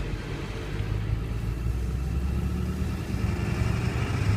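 A 2002 Ford F350 extended cab with the 7.3 diesel engine and six-speed manual idles steadily, a low continuous rumble running unbroken close by with no voices.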